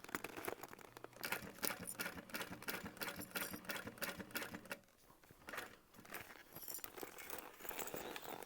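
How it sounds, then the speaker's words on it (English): Sewing machine stitching through layers of fabric for a crossbody bag, a fast steady mechanical chatter that pauses briefly and then resumes, close and fairly loud. "Make sure you're only sewing through that top layer."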